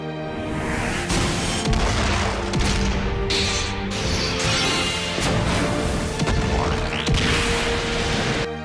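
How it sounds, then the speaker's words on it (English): A loud, continuous blast of layered crashes, whooshes and booming impacts from the Sword of Fire special shot in the Inazuma Eleven GO Galaxy video game, dense and unbroken throughout. "Tsurugi Mishimax with Haku with Matai Griffin Sword of Fire"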